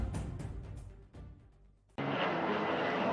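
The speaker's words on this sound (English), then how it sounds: "Hey, what's wrong with that plane?" Airplane passing overhead, a broad roaring engine wash that grows abruptly louder and stays steady and close, with no talking.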